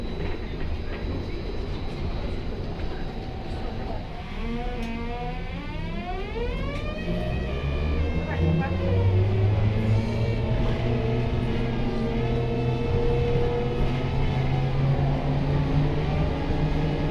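A Škoda 14Tr trolleybus drives past with a rising electric whine sweeping upward, over steady rumbling road noise, fairly loud and continuous.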